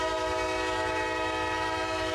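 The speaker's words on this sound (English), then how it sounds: "The first train we see, well, was technically Q213, the opposite of the train we just saw, loaded auto racks headed from Baldwin to Winston" CSX freight train Q213 hauling loaded auto racks rolls past, a loud continuous horn-like tonal drone with low rumbling underneath, close and unbroken for a couple of seconds.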